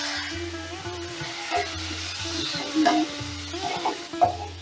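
Cauliflower curry fries and sizzles in a pan while a spoon stirs it, with repeated scraping strokes over a steady close sizzle.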